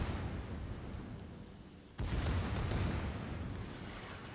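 Battleship secondary guns fire in World of Warships, heard as a rumbling barrage of distant booms that swells sharply partway through into a dense, loud roll of gunfire.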